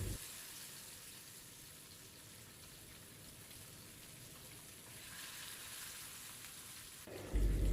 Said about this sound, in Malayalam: ഓയിൽ ചൂടായി കഴിയുമ്പോൾ അതിലേക്ക് ഓരോ മീനായിട്ട് ഇട്ട് കൊടുക്കാം.